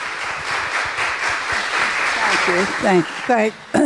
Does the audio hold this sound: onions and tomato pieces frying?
no